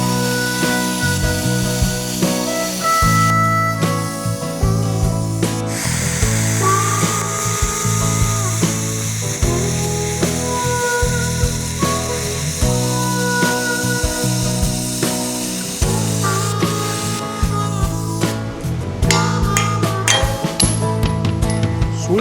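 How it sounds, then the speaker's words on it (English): A plasma cutter slices through axle steel with a loud, continuous hiss and buzz, close up. The tone shifts as the cut moves, with metallic clinks and brief pauses between passes. "I'm going to use this plasma cutter to make my life a little bit easier"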